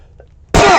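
A single sharp adult cough, an asthmatic cough, bursts out loud and close after a near-silent pause.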